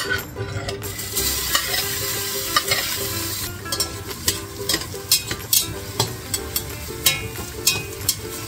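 Onion sautés in a hot pan as the base for Filipino rice porridge (lugaw), a steady oily sizzle broken by repeated scraping strokes of a spoon stirring against the pan, close and alone.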